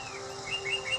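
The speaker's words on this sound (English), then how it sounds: "And you can hear the birds" Faint, brief bird chirps flicker over a quiet background hiss, a few short high notes arriving in quick succession.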